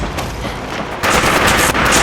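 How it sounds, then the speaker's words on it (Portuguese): Rapid gunfire in the Fallout 4 video game, a dense burst of automatic shots that gets louder and more intense partway through, with no talking. "Gente, eu tô tomando tiro."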